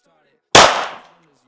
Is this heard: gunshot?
yes